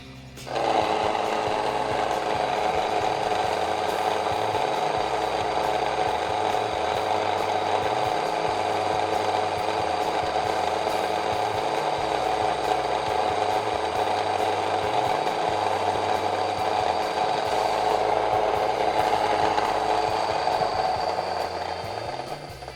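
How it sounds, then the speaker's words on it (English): An electric grain mill grinding rice into flour, a loud, steady motorized whir with a rhythmic pulsing churn that runs continuously from start to finish. "So here we go, we're gonna grind up our rice into flour."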